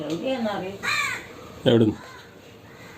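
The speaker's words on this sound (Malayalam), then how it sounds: "അത് കാക്ക കരയുന്ന" A crow caws a couple of times at moderate distance while a person speaks nearby.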